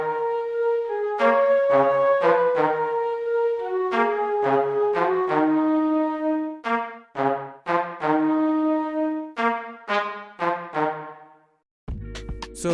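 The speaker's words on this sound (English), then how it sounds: "I then added a Trumpet Staccato from Sonatina Orchestra as well, and with the flute it sounds like this." Sampled orchestral trumpet staccato notes from the Sonatina Orchestra library layered with a sustained flute line, playing a repeating melodic phrase in short punchy bursts over held tones, loud and close, with no talking, ending on a brief noisy hit.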